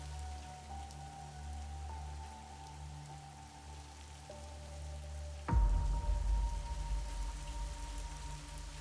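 Monsoon rain at a stadium construction site in Rourkela, India, a steady dense patter of drops on surfaces joined by low droning machinery hum, growing louder and more forceful partway through, with no voices.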